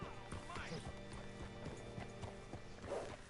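Horse hooves clip-clopping in Red Dead Redemption 2, a quick series of sharp knocks that slows to a halt, with a brief whinny near the end and speech over the top.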